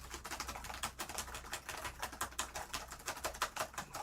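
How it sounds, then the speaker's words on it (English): Rapid, crisp key clatter from a Lenovo ThinkPad laptop keyboard with an IBM-style blue enter key, a dense run of clicks and taps heard up close, with no voices. "The blue enter key, the return key from IBM. The Legendary keyboard."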